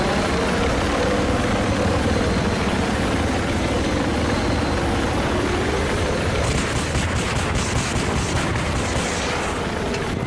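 Attack helicopter engine from a video game, a loud continuous rotor and turbine roar throughout, with a burst of rapid gunfire crackle joining in the second half.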